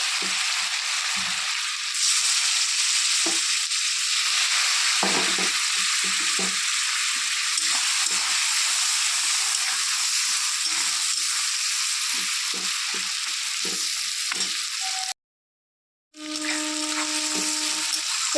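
Chopped small tomato and dry chilli powder hit hot oil in a pan while cooking a katla fish curry, a steady close sizzle with occasional stirring taps, briefly cut to silence near the end.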